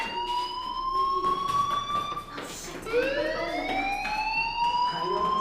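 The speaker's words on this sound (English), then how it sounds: "Hey, do you hear that fire alarm?" A fire alarm rings in the video game Life is Strange, a continuous rising and falling electronic siren wail that carries loud throughout, with faint background noise and a voice briefly underneath.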